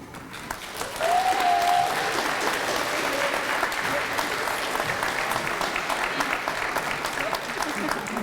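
Sustained applause from a crowd at the 2025 Gardner Academy graduation ceremony for the graduates, rising sharply after a moment and holding steady, with a brief cheer or whistle near the start.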